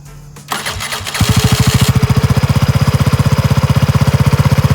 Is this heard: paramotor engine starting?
yes